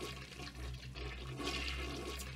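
A toilet flushing in the video game BioShock, a steady rushing gurgle of water that carries on for a couple of seconds, fairly close and alone, ending in a brief sharp clunk.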